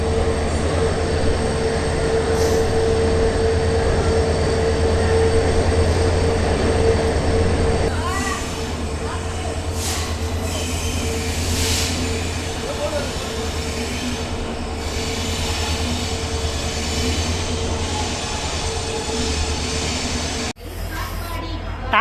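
A train on the Chamrajanagar to Mysuru line pulls into platform five at Mysuru Junction, its steady rumble and wheel noise running throughout, with a brief squeal and a change in pitch partway in, and voices audible in the background.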